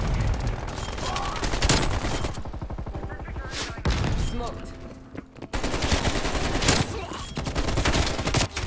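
Rapid bursts of automatic rifle fire in Call of Duty Cold War multiplayer, loud and dense with a brief lull mid-way, the gunfire rattling almost continuously in a fast, chattering rhythm.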